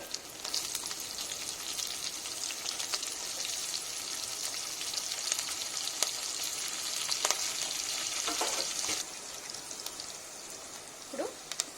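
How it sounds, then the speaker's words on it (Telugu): Onions and green chillies frying in hot oil for fish biryani, a dense continuous hiss of sizzling with faint clatters of stirring, then softening slightly toward the end. "ఇందులో ఇది వేడెక్కాక ఆయిల్, ఆనియన్స్, పచ్చిమిర్చి"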